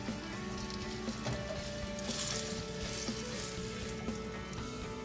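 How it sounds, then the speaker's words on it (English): Salmon sears in a hot pan with a steady, close sizzle that holds at an even level throughout, with a few soft clicks and shifts underneath and no voices. "We're just searing it. Just want that crust on the outside to develop."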